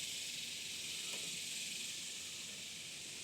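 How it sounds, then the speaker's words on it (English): Steady, close sizzling hiss of an apple-smoked pork chop cooking on a hot Kamado Joe Jr grill, continuous and even from start to finish. "Look at that beautiful sizzle that's happening here."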